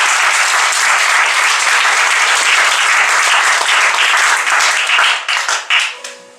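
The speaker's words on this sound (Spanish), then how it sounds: "Denle un aplauso al Señor." Congregation at a Spanish-language evangelical church service applauding together, a loud dense wash of clapping that holds steady for several seconds and then thins into scattered final claps as it dies away.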